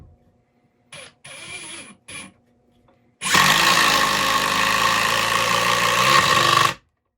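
A Metabo HPT 36V impact driver sinks long 3.5-inch screws into a 4x4: a few short whirring bursts first, then one loud sustained stretch of rapid hammering rattle lasting about three and a half seconds before it stops.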